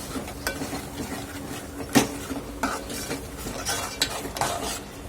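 Masala being sautéed in oil with turmeric in a pan for a dhaba-style rajma chole curry, heard as close spoon stirring and scraping against the pan with soft sizzling underneath and a few sharper clinks.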